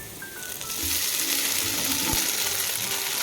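Broken idli pieces drop into a hot frying pan for garlic idli upma, bringing a steady, loud sizzle with a few soft thuds and scraping stirs.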